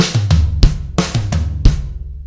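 Drum kit herta rudiment played twice back to back, snare down through rack tom, floor tom and kick, two fast rolling four-hit groups up close, loud with ringing low tom and kick decay, no voices.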